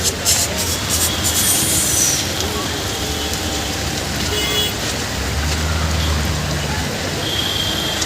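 A train at Goregaon railway station gives a loud, steady rumbling roar of rolling wheels, mixed with a bright hiss and busy station noise.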